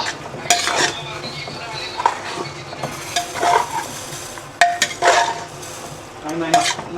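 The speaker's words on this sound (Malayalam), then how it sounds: "എന്നിട്ട് ഇത് നന്നായിട്ടൊന്ന് കുഴച്ചിങ്ങനെ എടുക്കുക" Biryani masala ingredients for a pressure-cooker biryani stirred and kneaded together in a bowl: irregular close scraping and clinking strokes of a utensil against the bowl, with a few sharper knocks.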